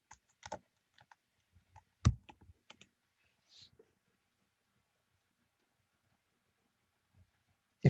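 Quiet, sparse keystrokes tap on a computer keyboard in short clusters with long pauses, one sharper click standing out, in a hushed room.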